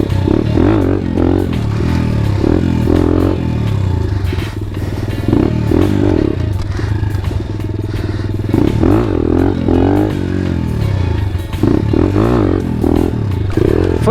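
A Honda Grom pit bike engine revs and drones steadily through wheelie practice, loud and close, with rising and falling pitch and some clatter and rattle from the bike.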